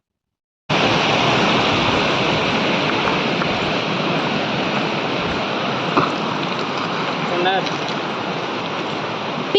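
Water rushes between rocks at a waterfall in Odisha, a loud, steady broadband roar that starts suddenly and continues unbroken, heard up close.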